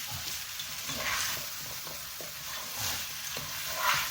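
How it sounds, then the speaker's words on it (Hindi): Mixed vegetables fry on high heat with soft sizzling and a few spoon stirs, fairly quiet and close, with no voices. "दो से 3 मिनट इनको तेज़ आंच पर भून लें।"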